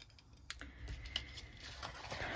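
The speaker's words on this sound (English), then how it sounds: "I'm going to get my bigger scissors" Bigger scissors cut through scored card while a chocolate gift package is being assembled, giving a dry snipping and rustling texture with a few sharper clicks, close and fairly quiet, with no talking.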